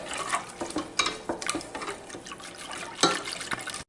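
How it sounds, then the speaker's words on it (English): A spoon stirs banana pudding made from milk in a pot on the stove, giving soft irregular scraping and liquid swishing up close, with no talking. "Add the rest of your milk and just continue to stir till it starts to thicken."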